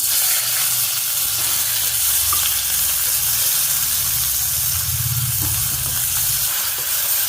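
Onions and green chilies sizzle in hot ghee, a steady, loud crackling hiss with occasional stirring scrapes and no talking.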